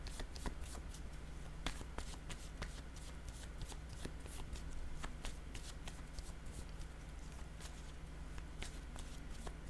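A deck of association cards being shuffled, with a steady run of soft riffling clicks and slaps at close range and moderate level, no talking.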